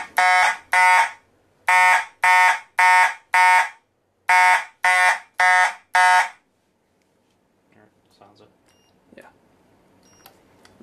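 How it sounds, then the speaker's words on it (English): An Edwards coded fire alarm pull station sounds loud, regular bursts of a harsh buzzing alarm in grouped pulses for about six seconds, then stops, leaving faint clicks and handling noise. "Now we reprogrammed it to count silently and then go into alarm."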